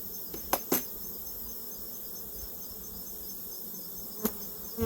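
Honey bees swarming around an open beehive during a hive inspection, a soft continuous buzz in the background broken by a few sharp clicks and knocks, with no voices.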